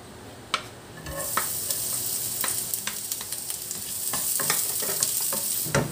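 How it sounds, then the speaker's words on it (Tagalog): Garlic sautéing in a hot pan makes a loud, close sizzle, with sharp crackles and spatters and a few stirring clicks, and no voices. "Mag-gisa na tayo ng bawang."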